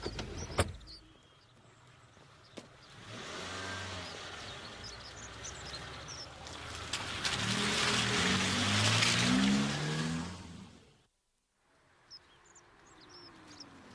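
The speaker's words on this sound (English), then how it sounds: "I heard a car slowing, so I stopped." A car on a village road approaches and slows, its engine and tyre noise swelling over several seconds, then fading before a brief silence and faint background sounds.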